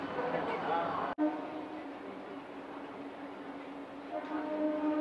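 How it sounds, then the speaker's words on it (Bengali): A Howrah–Haldia local train pulls away from the station with a steady, broad rumble and a low droning hum, and murmuring voices can be heard around it. "এখন আমাদের ট্রেন ছাড়লো হাওড়া হলদিয়া লোকাল"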